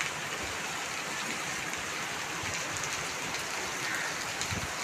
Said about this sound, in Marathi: बघा पावसाला सुरुवात झालेली आहे तेव्हा पाऊस पडतो आहे